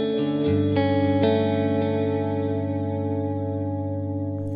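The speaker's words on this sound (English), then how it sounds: "a little bit of delay trails, a little bit of reverb, and it has this nice clean sound" Clean electric guitar tone on a worship pedalboard, a few chords struck early and left to ring, their delay trails and reverb sustaining and slowly fading, alone and up close.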